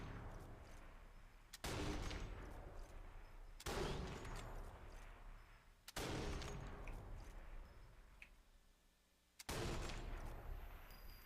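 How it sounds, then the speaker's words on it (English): Gunfire in the video game The Outer Worlds 2, four loud, heavy shots spaced a couple of seconds apart, each with a sharp attack and a long booming decay, mostly alone with faint background ambience. "Who's shooting?"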